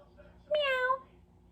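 A black cat gives a single clear, mid-length meow, rising then falling, as a sound effect within a spoken story reading, heard alone without overlapping talk.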